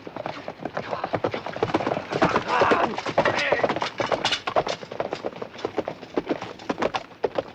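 Cavalry regiments' horses gallop at the Culloden battle, a dense continuous drumming of hooves running the whole way through, with a voice speaking over it.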